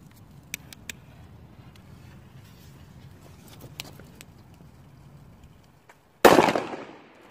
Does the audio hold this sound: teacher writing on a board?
no